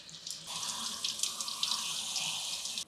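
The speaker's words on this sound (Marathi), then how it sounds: "आणि पाणी घालून स्वच्छ धुवून घ्यायचे." Tap water runs onto a quarter kilo of flattened rice (poha) held in a sieve, a steady close hiss that starts abruptly and pours evenly for a couple of seconds before cutting off.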